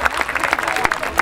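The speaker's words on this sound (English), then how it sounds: "Come on, Lisa. Give her a big cheer." A crowd claps and cheers for a rider at the Chase Me Charlie event at Poynton Show, a brief burst of scattered applause at moderate distance.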